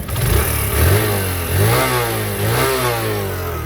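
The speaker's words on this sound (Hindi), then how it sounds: "ये इसके इंजन का साउंड है" A Suzuki GSX 125 2025 motorcycle engine runs nearby, revving up a few times then settling into a steady, throbbing idle.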